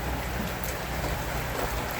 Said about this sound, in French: comme par hasard il recommence à pleuvoir